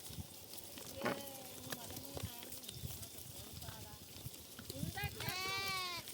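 Several sheep bleat in short wavering calls, one loud and close near the end, over outdoor rustling and people talking.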